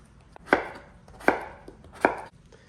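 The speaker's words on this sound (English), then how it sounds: "Cut the potato them just like this. Cut them in cubes." Potatoes are chopped into cubes with a knife on a board, giving three sharp, evenly spaced chops that ring out clearly with quiet pauses between them.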